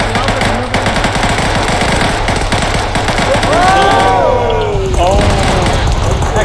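Friendly fire in a military video game: rapid automatic gunfire rattles in quick bursts under steady radio-style team chatter, joined later by a rising whine.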